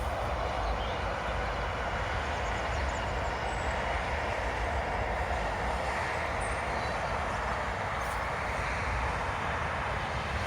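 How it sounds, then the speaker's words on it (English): A steady, broad rumble of a train rolling past nearby, continuous and loud throughout with no voices. "There's a train!"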